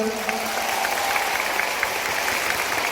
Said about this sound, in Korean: 자, 여러분 박수 한번 보내주세요.